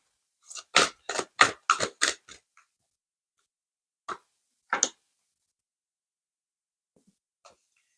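Tarot cards being shuffled: a quick riffling burst of crisp card flicks, then two short isolated snaps a few seconds later, close and dry against near silence.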